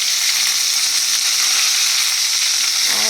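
Chili goes into a hot frying pan of drumstick, potato and lentil-dumpling curry and sizzles steadily and loudly throughout, a constant close hiss with a faint stir near the end.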